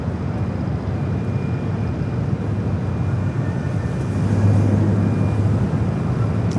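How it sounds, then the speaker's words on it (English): An American Airlines A321 jet takes off at LAX, heard as a steady, broad engine roar from a distance that swells slightly toward the end, with no talking. "next takeoff. American Airlines Flight 2746 heading to Dallas-Fort Worth, Texas on an A321"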